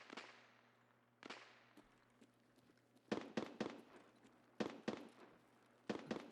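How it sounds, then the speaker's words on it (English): Distant sniper rifle shots in the video game Escape from Tarkov, several sharp cracks arriving singly and in quick clusters of two or three, faint and far off against a quiet background. "That's Sniper Scav shooting at somebody."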